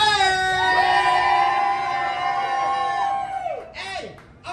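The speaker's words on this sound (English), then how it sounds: "at the count of three, please, let's make a lot of noise" A street-show crowd in Times Square at night lets out a sustained loud cheer and whooping on cue, voices rising and falling together for several seconds before tapering off.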